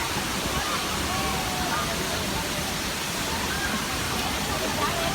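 Huai Luang waterfall in Ubon Ratchathani, Thailand, a steady broadband rush of falling water roaring evenly throughout, with faint voices blending into the wash.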